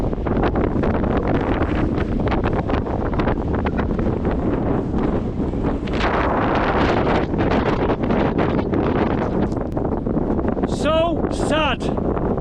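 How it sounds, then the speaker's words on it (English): Wind gusting steadily through trees on a blustery upland road in the Pennines, a broad continuous rush that fills the whole stretch, with faint voices and a brief chirp near the end. "Hear the wind in the trees here."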